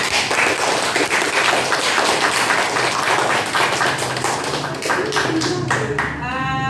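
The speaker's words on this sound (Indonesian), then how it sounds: "Tepuk tangan." Students in a classroom clapping their hands together, a continuous burst of claps that thins out toward the end as a voice rises.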